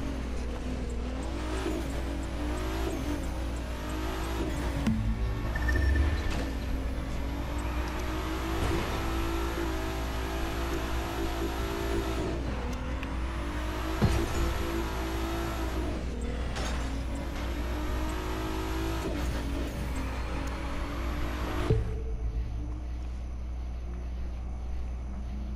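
A car in the racing game The Crew 2 drifts and revs with a loud, continuous engine roar that rises and falls in pitch through repeated shifts and slides, and some tire squeal comes in, with no talking.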